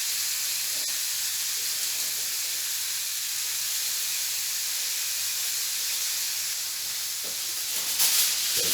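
Steak sizzles in a hot pan after being flipped, giving a continuous even hiss that stays loud and unbroken, with a slight swell near the end.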